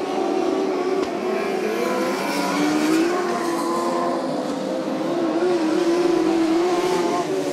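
Midget and sprint race cars roar around an oval dirt track during a URA Limited Midgets and California Lightning Sprints event, a dense continuous engine drone with rising and falling pitch as the pack passes, loud and sustained.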